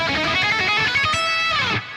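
Electric guitar ripping through a fast solo run at full speed, dense bright notes tumbling quickly before cutting off near the end, loud and alone.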